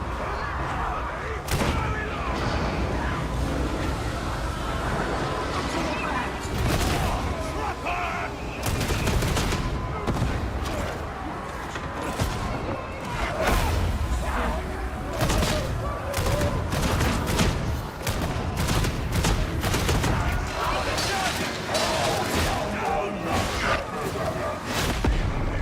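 A bolt gun fires in Warhammer 40,000: Darktide amid chaotic combat: sharp, loud shots in irregular bursts and volleys over a dense backdrop of battle noise lasting the whole stretch.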